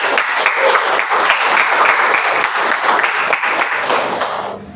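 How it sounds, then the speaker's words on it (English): A room of attendees at a Toastmasters club meeting applauds an installed officer: steady, moderately loud clapping from a modest crowd that carries on for several seconds, then thins at the end. "Let's have a round of applause."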